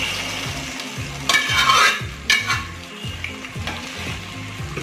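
Garlic, cumin and curry leaves sizzle loudly in hot oil for a Tamil bottle gourd kadayal tempering, a steady close fry with bursts of crackle and occasional stirring, no talk.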